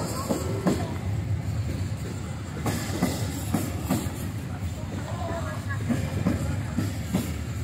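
A train passes by with a continuous rumbling roll and periodic clacking of wheels over rail joints, fairly close, while people talk in the background.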